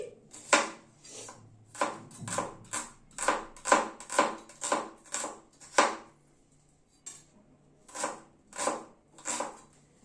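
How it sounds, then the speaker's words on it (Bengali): A knife chops onion, ginger and green chillies on a board in quick, close bursts of sharp taps, pausing briefly between runs of cutting. "পেঁয়াজটাকে কেটে নিলাম, এবার আদাটাকে কেটে নিচ্ছি।"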